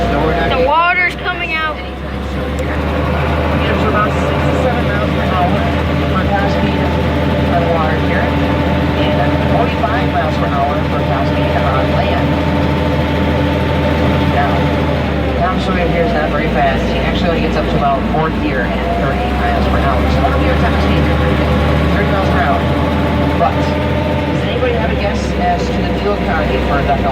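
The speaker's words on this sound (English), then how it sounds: "It's a 272-inch, 6-cylinder engine that puts out 100 horsepower." An amphibious duck boat's 272-cubic-inch six-cylinder engine of 100 horsepower drones loud and steady throughout, with talk carrying on over the continuous engine noise.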